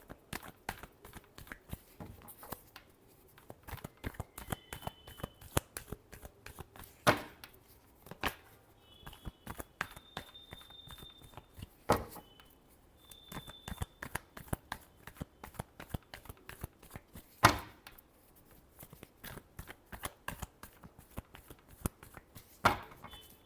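Tarot cards being shuffled by hand, sharp irregular riffles and slaps close to the microphone in bursts over a quiet background, with faint brief tones between.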